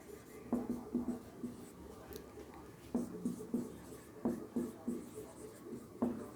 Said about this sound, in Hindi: यहाँ पर हम लोग लिख सकते हैं फाइनल